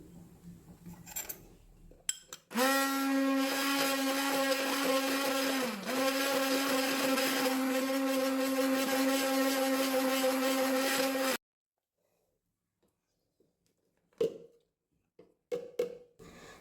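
A blender grinds yogurt and onion into a paste, a loud, steady motor whine running for about nine seconds, dipping briefly mid-run, then cutting off abruptly into near silence with a few faint knocks.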